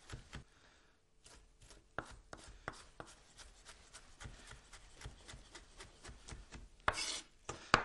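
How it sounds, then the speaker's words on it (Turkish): A knife chops tomatoes on a board for a Caucasian-style chestnut kısır salad, with steady, fairly quiet cuts in an uneven rhythm and a few sharper knocks near the end. "Domatesin dış kabuğundan domatesi doğramanız zor olabilir."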